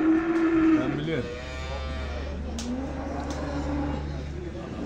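A cow moos loudly and up close at a cattle livestock market in Ceyhan, a long low call followed by bellowing, with steady crowd and vehicle noise underneath.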